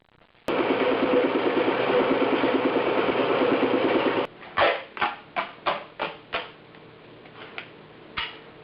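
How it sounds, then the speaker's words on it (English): A workshop bandsaw cuts aluminum pieces for a 1976 Mazda RX-5 Cosmo cooling system, whirring in a steady buzzing drone for about four seconds, then stopping, followed by a string of sharp, separate knocks and clanks. "we'll just lop that off on the old bandsaw"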